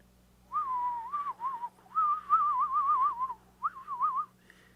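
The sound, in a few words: voice imitating a strange whistling sound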